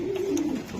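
A single male racing pigeon gives one short, low cooing call close up, a smooth sustained murmur that dips slightly at the end.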